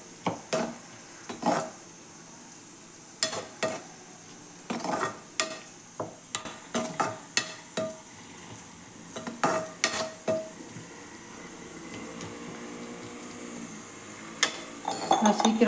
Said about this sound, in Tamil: பாருங்கள், எல்லாம் கிளறி விடுங்க.